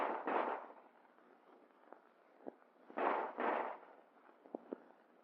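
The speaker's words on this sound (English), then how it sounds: "combat firing trains men to fire instinctively from the standing position, pointing the gun as if it were a finger" An M1911 handgun fired in 1944 US Army combat-firing training, heard as a few muffled reports, one early and a close pair midway, with faint clicks between them and a narrow, boxy quality.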